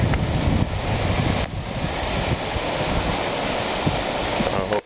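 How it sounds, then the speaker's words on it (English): Dual waterfall at Desert Harbor lake in Peoria, Arizona, pouring as a steady, broad rushing wash of water with some wind noise, continuous and fairly loud, with no talking. "there's the dual waterfall, the northwest waterfall, in all its splendor and glory"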